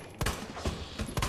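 Gunfire in the Resident Evil 2 video game: three sharp, evenly spaced shots pop out over a dense, noisy game background, each one brief and punchy.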